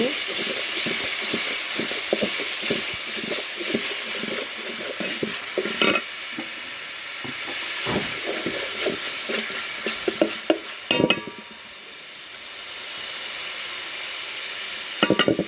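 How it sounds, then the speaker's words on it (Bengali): Onion paste, garlic paste and green chillies frying in oil for a chicken curry, a steady sizzle with repeated scraping stirs and clinks of a spoon against the pan throughout, fairly close. "তারপর দিয়ে দিলাম পেঁয়াজ বাটা রসুন বাটা কয়েকটা কাঁচামরিচ একটু তেলের মধ্যে ভেজে নেব"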